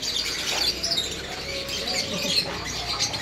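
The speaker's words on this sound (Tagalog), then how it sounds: "Ang dami palang ibon ah. Marami na ibon." A dense chorus of many small birds chirping and twittering continuously, busy and bright, with no talking.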